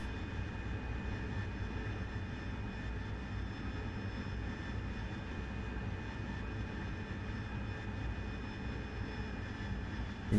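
An AV-8B Harrier jet engine drones steadily and loudly through a training flight, a continuous whine over a dense rumble with no voices.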